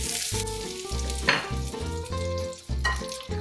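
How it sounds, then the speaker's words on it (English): A tablespoon of butter melts and browns on a hot metal sizzling plate over medium-high heat, giving a steady, close sizzle with brief louder bursts of crackling. "Add a tablespoon of butter and let it melt until it turns brown."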